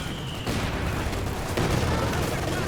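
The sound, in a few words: gunfire from Panzer Grenadiers in video game Company of Heroes 2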